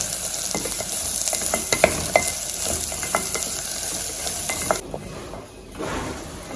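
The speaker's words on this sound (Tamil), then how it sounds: "இந்த வெண்டைக்காய் நல்லா வதங்கட்டும் இந்த குழகுழப்பு இல்லாமல் வதங்கணும்" Chopped okra sautéing in a pan for a Chettinad pachadi, a loud close sizzle with regular scraping and light clinks of a ladle against the metal, and the frying drops back sharply near the end.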